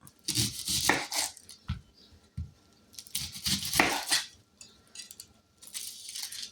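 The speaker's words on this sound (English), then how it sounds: "Let's get an onion cut up." Knife chopping an onion on a board in a home kitchen, with bursts of crisp cutting strokes and scraping, pausing briefly between rounds, close and moderately loud with no talking.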